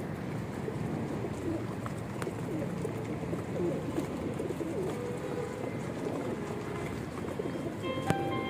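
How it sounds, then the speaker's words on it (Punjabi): Pigeons coo on a rooftop loft while being caught, with a dense, steady layer of soft cooing and fluttering throughout and a sharp click near the end. "ਟਾਈਮਾਂ ਵਾਲੇ ਕਬੂਤਰ ਨੇ ਸਾਰੇ"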